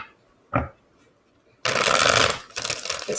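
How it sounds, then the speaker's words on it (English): Tarot cards being shuffled by hand: one short riffle, then a long loud burst of shuffling followed by another run of brisk card noise, close up with no talking. "So let me get a few more shuffles here."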